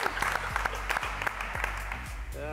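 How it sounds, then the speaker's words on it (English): Applause rises for the grand prize winner of a Subaru STI S209 giveaway, a moderate patter of clapping heard alongside voices and low rhythmic thumps. "Let's give him a big round of applause."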